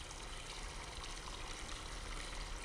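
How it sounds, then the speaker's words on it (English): A bucket fills with water at a farm spigot in Farming Simulator 22, a steady, dense gushing stream running throughout at moderate level. "you'll bring this bucket over to this spigot. And it is filling your bucket full of water"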